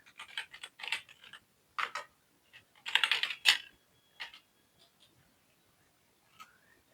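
Computer keyboard typing a search query comes as irregular close bursts of keystrokes with pauses between them, fading to a few isolated taps.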